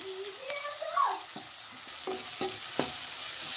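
Ginger and garlic fry in a pan with a low steady sizzle, while a spoon scrapes and taps against the metal in a few scattered strokes at close range.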